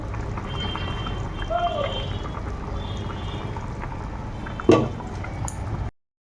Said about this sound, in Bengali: রান্নার এখানটা একটু সর্ষের তেল দিয়ে দেবো